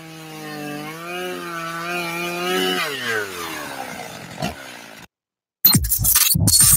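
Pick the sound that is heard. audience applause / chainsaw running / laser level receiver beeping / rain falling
chainsaw running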